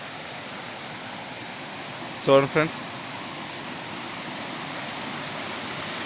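A stream flows steadily at an outdoor adventure spot, giving a constant broad rush of moving water. A voice speaks briefly over it.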